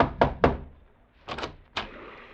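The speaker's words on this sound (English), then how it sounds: "rapped on the door" Knuckles rap on a wooden door aboard a ship anchored outside Bangkok harbor: two sharp knocks, a pause, then a quicker double knock and a final single knock, close and hollow with a slight room echo.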